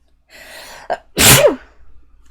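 A single loud, sharp sneeze bursts out close up, preceded by a quick inhale and followed by quiet.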